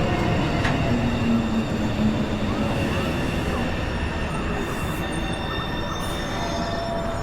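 A New York City subway 1 train at 207 Street station rumbles loudly and steadily, with wheel noise and brief high squeals over the continuous roar, and no talking.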